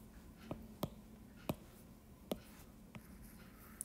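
A pen on paper while working a maths problem, a few sparse, faint scratchy strokes and taps spaced out in a quiet room.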